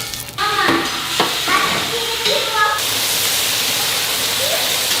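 Meat sizzles and spits in hot rendered tallow while being stirred, a dense steady hiss with scraping clatter early on and a voice speaking briefly over the frying.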